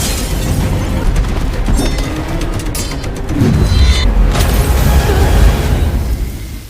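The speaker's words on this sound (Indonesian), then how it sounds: "Yelena berhasil meledakkan pesawat sebelum melepas landas." A plane blows up before takeoff in a Black Widow action film scene, a loud sustained boom and rumbling blast with debris-like crackle swelling midway.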